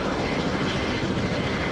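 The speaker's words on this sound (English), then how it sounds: "I'm following the helicopter right now" A helicopter in the zombie shooter game No More Room in Hell gives a steady, loud rotor and engine roar that fills the whole short stretch without a break.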